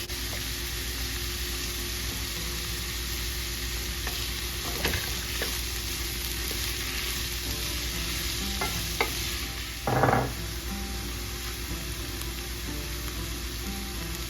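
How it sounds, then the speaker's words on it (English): Chopped onion and bell pepper sauteing over medium-high heat, a steady close sizzle with occasional stirring scrapes and a brief louder clatter near the end. "I'm going to add a half a cup of onion and a half a cup of bell pepper chopped. And I'm going to saute that as well."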